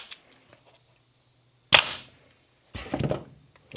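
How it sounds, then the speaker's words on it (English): A staple gun firing into plastic, a single sharp snapping clack followed by a second rattling impact, close and loud in a quiet space. "I've got no idea if my staple gun is even powerful enough to freaking shoot a staple into plastic."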